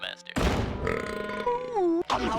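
The cartoon character Heffer Wolfe lets out a long, loud, voiced burp whose pitch slides downward, followed by a brief gulping sound.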